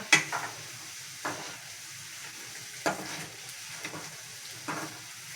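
Potatoes roasting in oil in a frying pan, a soft steady sizzle broken by several scraping stirs of a utensil against the pan at irregular intervals.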